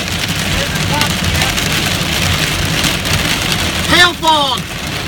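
Hail pounds down during a storm entering Plainfield, Indiana, knocking leaves and limbs from trees, a steady dense roar of impacts throughout, with brief exclamations near the end.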